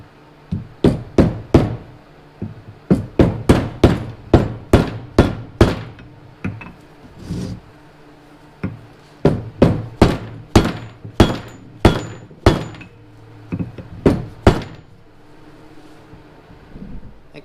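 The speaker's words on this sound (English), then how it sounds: "I think the rubber hammer just has too much bounce" A rubber mallet thumps repeatedly on a workbench in rapid bursts of several blows, each with a dull bounce, separated by short pauses, during a Sea-Doo RXDI jet pump repair.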